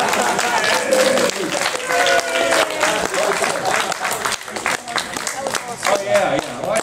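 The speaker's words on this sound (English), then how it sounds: "give a big shout out and a big cheer and a round of applause for Julius" An audience at an anime convention Q&A panel breaks into loud, sustained applause and cheering, a dense wash of clapping filling the room, with voices mixed in.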